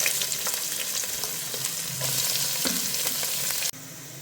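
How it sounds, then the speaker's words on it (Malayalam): Medium onions sautéing in a pan for a Kerala-style roasted-coconut chicken curry, giving a continuous close frying sizzle with stirring scrapes, which cuts off sharply near the end. "ഇതിലേക്ക് നമുക്കൊരു 3 മീഡിയം സൈസ്ഡ് സവാളയാണ് വേണ്ടത്. അപ്പോൾ അതിൽ നമുക്കൊന്ന് വഴറ്റിയെടുക്കാം."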